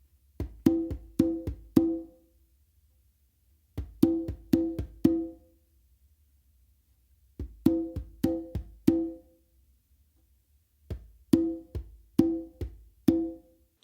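Congas play a funk 3-in-1 pattern with ghost notes from the dominant hand and open tones from the other, in four clear repeated bursts of quick strokes separated by short pauses.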